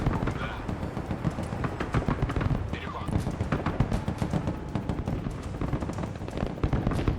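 Mortar fire in the video game Broken Arrow: a dense barrage of booming impacts and rumbling explosions overlapping continuously, loud and close, with a voice talking over it.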